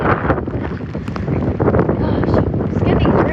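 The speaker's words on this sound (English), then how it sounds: "it's getting random gusts, like to 70 to 60 miles per hour" Strong derecho wind gusts of 60 to 70 mph roar and buffet the microphone in a dense, constant rumble, loud and close throughout.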